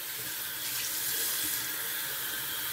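Tap water runs steadily into a sink while a Tabac shaving soap puck is rinsed, a constant close hiss with no voices.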